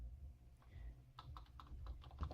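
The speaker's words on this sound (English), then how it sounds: "I'm typing." Typing on a computer keyboard, a run of quick, light key clicks in an irregular rhythm over a low background hum, close and fairly faint.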